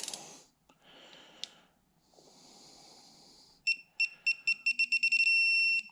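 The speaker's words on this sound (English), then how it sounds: "You'll hear it rapidly beep as we get close, and then you'll hear a solid beep when we hit it." Digital torque wrench tightening fasteners on a 2012 Hemi 1500 engine, a string of loud electronic beeps speeding up into a steady sustained tone, after quieter handling noises.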